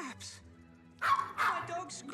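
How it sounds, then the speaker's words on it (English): A dog in the animated film Corpse Bride lets out a few sharp barks and yips against quiet film audio, with a short voice mixed in. "Oh, it's his dog."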